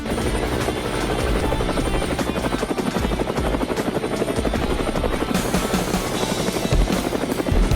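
A loud video-game helicopter hovers close by, its rotor chopping in a fast, steady rhythm over a constant whining engine drone.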